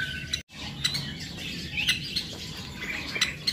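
Birds chirp and tweet in a mini aviary, with several bright calls scattered over a steady, busy background of ambient chatter.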